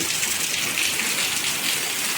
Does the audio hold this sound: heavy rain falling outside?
yes